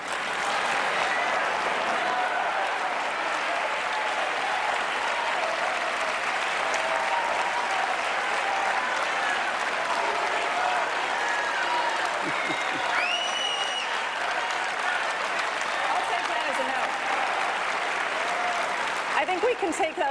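Sustained, loud audience applause at a CUFI Summit where a Republican congressman speaks, a dense crowd of clapping lasting the full stretch with faint voices mixed in.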